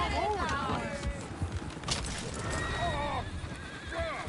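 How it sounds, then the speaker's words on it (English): In Red Dead Redemption 2, a horse whinnies in repeated wavering calls over clip-clopping hooves, fairly close, with a voice talking over part of it. "Damn horse!"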